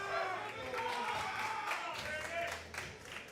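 A crowd at a powerlifting state championship meet cheers and claps in a continuous swell, moderately loud, with a commentator's voice running over it.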